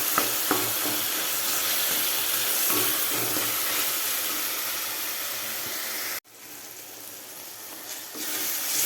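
Tomatoes fry in oil in a pan for a homestyle bitter gourd theeyal, giving a steady, close hiss and sizzle with light stirring scrapes. The sound dips briefly, then carries on, with no talking.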